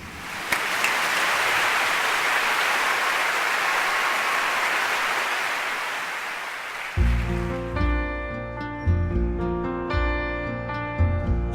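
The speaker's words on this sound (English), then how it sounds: "please welcome Kerry Walsh with a very, very warm round of applause" A warm round of audience applause welcomes a poetry performer at a book-launch event, broad and steady for several seconds before fading out as piano music begins.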